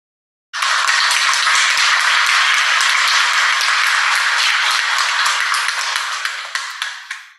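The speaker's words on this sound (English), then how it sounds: "please give a round of applause to welcome more than 500 professors from international universities" Conference-opening audience applauds at a smart health workshop, a dense, steady wash of many hands clapping that starts abruptly, holds loud and even, then thins toward the end.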